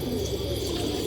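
Gajra pigeons of an antique colour coo in a steady low warble, close and continuous over a dense background hum.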